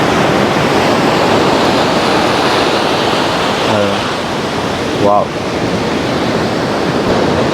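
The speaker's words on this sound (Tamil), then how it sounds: "அந்த பார்த்தீங்களா அலை அப்படியே பயங்கரமான அலையா இருக்கு இன்றைக்கு." Heavy ocean surf pounds a rainy beach, a loud, continuous roar of breaking waves and rushing water close by, with brief voices speaking partway through.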